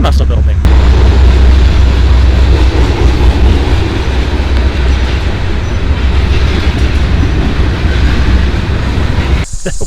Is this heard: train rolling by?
yes